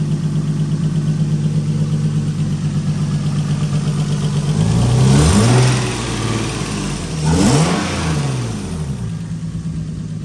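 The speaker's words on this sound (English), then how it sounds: "it starts. I don't know if you can hear the little lifter thick noise" A Nissan 240SX car engine with a lifter tick idles steadily, rising in two brief revs before settling back to a rough, continuous hum.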